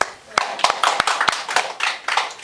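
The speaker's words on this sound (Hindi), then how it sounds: "ताली बजाओ।" Students in a Class 8 classroom lesson on reproduction in animals clap their hands in a brief, loose burst of sharp claps, some close together, while voices murmur underneath.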